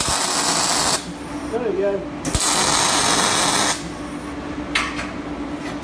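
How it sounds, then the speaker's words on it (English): Metal panels are tack welded together in a workshop, with several short bursts of harsh buzzing hiss separated by pauses, loud and close, and someone speaking briefly over them. "bit weld them up, watch your eyes."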